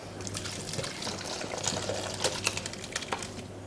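Whey pours and trickles softly through a cloth-lined colander, with faint dribbling and splashing against quiet background noise.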